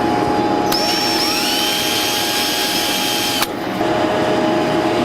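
A mag drill bores into a key on a Fairbanks power hammer, a loud continuous whine and grind with a steady high tone that cuts off abruptly partway through before the machine noise resumes.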